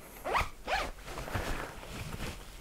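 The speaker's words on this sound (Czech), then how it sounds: "kapsy na ruce jsou uzavírané pomocí zipů" Two quick zipper pulls on the arm pocket of a Jack Pyke Ashcombe hunting jacket, close and loud, each a short rasping zip, followed by softer fabric rustling.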